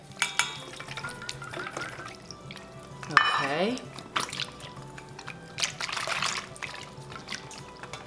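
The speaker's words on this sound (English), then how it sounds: "So now we have to whisk vigorously a half a cup of the beef broth to that mixture. So we're just gonna slowly pour it." Beef broth slowly poured into a mixture while whisking for a keto Guinness onion gravy, with soft liquid stirring and splashing sounds, a brief rising trickle midway, and a single short spoken word.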